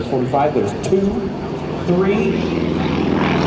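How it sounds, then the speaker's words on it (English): A propeller aircraft engine in aerobatic flight during a hesitation roll, the drone sputtering and faltering as it runs upside down, loud and close under a voice counting aloud. "Did you hear the engine start to quit?"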